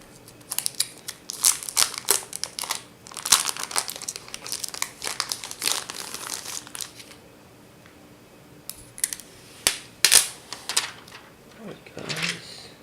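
A Huawei MediaPad M2 premium edition tablet is unwrapped, with close, bursty plastic crinkling and crackling in repeated flurries, pausing briefly before a few more rustles.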